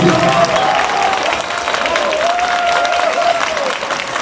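Loud, sustained applause breaks out in a hall after the results of a local İYİ Party district chair election in Edirne are announced. Many hands clap with a murmur of crowd voices and a few cheers mixed in.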